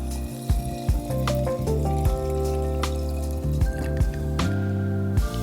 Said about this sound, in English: And then pour in my denatured alcohol.